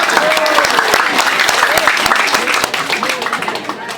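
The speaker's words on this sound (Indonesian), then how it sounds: "Tepuk tangan." A crowd at an evening political gathering in Indonesia applauding a regent candidate, with loud, dense clapping that fades slightly toward the end while voices carry faintly underneath.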